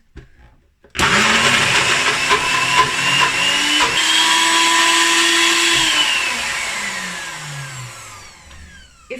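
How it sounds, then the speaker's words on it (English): A loud, close NutriBullet blender whirs for several seconds after a sudden start, its motor pitch shifting slightly as it runs, then winds down. "I'm going to just blend this in my NutriBullet blender"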